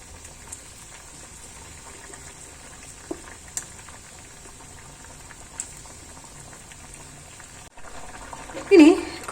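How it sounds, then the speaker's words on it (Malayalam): Curry boiling hard on a high flame makes a soft, continuous bubbling with occasional sharper pops, then a louder burst of bubbling and clatter near the end. "കറി ഒന്ന് നല്ലപോലെ തിളച്ച് വന്നിട്ടുണ്ട് കേട്ടോ."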